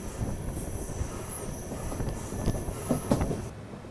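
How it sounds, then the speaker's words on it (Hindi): An Amrit Bharat Express train runs into Kottayam station with a steady rumble of wheels on rails, faint squeals and a few clicks rising above the moderate, continuous rolling noise. "अभी हम लोग कोट्टयम जस्ट पहुंचने वाले हैं, ट्रेन की एंट्री हो रही है यहाँ पे।"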